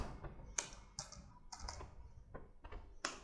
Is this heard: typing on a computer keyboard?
yes